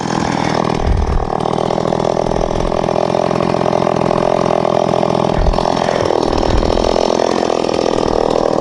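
A small Stihl MS 170 chainsaw runs near the microphone, its two-stroke engine droning steadily with a couple of revving surges and a brief dip back toward idle.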